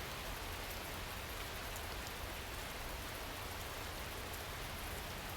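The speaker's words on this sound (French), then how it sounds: "Tu entends le bruit de la pluie?" Steady rain falls in an even, dense hiss with fine pattering drops, constant and close, with no voices or other sounds.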